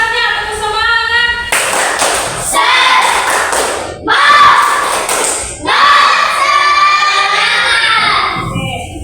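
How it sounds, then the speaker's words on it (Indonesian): A group of students in a physical education class claps out a rhythmic spirit clap. Sharp, loud bursts of clapping alternate with shouted group chanting in three or four distinct rounds, all close by. "Tepuk semangat."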